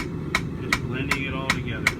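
Five evenly spaced ringing hammer blows from a 2-pound cross peen strike the bolster of an anvil during forge welding, each sharp and close, over a low background rumble.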